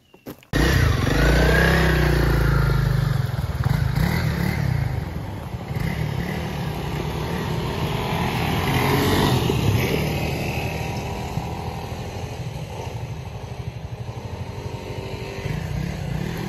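Honda CRF300L motorcycle on a trail ride, its engine starting abruptly and then droning loudly and steadily close by, with slight rises and dips in revs.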